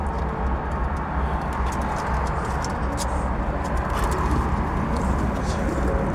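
Tumbler pigeons cooing in a loft, low soft coos over a steady background hum, with scattered clicks and a voice speaking now and then.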